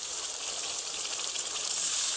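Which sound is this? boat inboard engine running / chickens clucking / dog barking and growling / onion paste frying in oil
onion paste frying in oil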